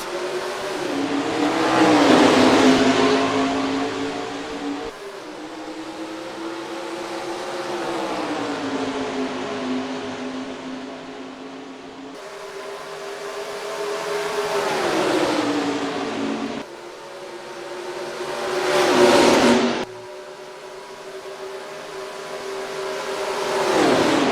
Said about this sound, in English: Levi Shones and Jay Jefferson to the restart zone, and we are green flag racing at Charlotte.